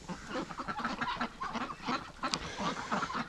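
Ducks on winter water giving soft, hoarse calls and honking quacks, several overlapping voices at moderate distance, fairly faint against background noise.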